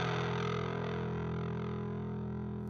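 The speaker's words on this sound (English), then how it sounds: "I used the Easy Bass 2 instrument to come up with the bass line, and I used that one to create a pretty nasty distortion effect." A synthesized Easy Bass 2 bass line played through a harsh, nasty distortion effect, a sustained buzzing tone with steady low harmonics, heard alone and fairly quiet, from a music production mix.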